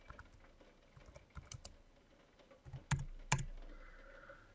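Keystrokes on a computer keyboard, entering a group name in gear-design software: a quiet, irregular patter of close-up clicks with a couple of sharper, louder taps near the end and no voice.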